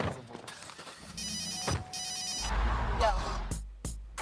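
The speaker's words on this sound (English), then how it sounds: "I love how they throw that phone ring in." A telephone ringing in a TV show: two bright electronic ring bursts in quick succession, set among other scene noises and a faint voice.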